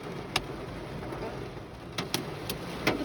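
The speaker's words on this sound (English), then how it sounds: "It's hailing, ain't it? It's hail balls hitting us." Hailstones strike a car during a thunderstorm, landing as a few sharp, separate knocks over a soft background of rain.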